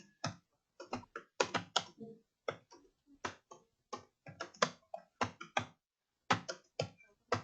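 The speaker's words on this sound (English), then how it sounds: "I'm just typing here." Someone types on a computer keyboard while writing Java code, with quick irregular bursts of close, crisp key clicks separated by short pauses, heard alone without speech.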